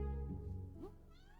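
A kitten gives one short, rising meow close by over a low, steady background hum, with no talk.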